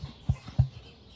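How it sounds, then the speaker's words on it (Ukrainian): Two deep, low thumps about a third of a second apart, the soft drumming boom of an emu, close and otherwise quiet. "Ось це ему такі звук видає."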